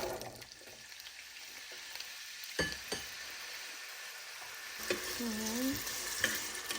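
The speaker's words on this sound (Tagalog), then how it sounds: "Ipa-fried muna natin siya bago natin latuin." Diced carrots and potatoes fry in a pan for pork menudo, a steady low sizzle with a few spoon scrapes and light clinks against the pan throughout.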